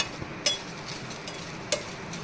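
Ponnaganti greens, curry leaves and drumstick leaves roasting in a pan give a steady, soft crackling hiss, broken twice by sharp clicks of a utensil stirring against the pan.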